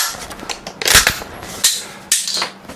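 Shotgun blasts, three sharp loud reports about half a second to a second apart, each with a short ringing tail, close and with no talking.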